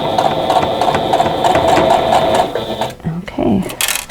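A sewing machine stitches a quilt block seam in a steady, rapid mechanical whir, then stops, followed by brief handling sounds.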